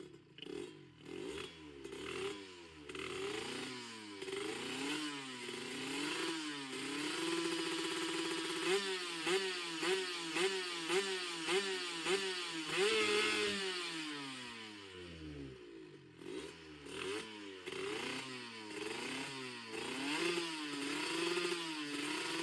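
A modified Honda LS125 motorcycle with a fully tuned carburetor setup revs hard and accelerates up close, its engine pitch climbing and falling in repeated sweeps, with a rapid stuttering rev section partway through.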